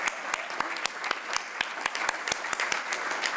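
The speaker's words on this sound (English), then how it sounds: "we need to give Bernie another round of applause" An audience at a wellness forum gives Bernie Kosar a round of applause, a dense, steady patter of many hands clapping close by, filling the room without voices.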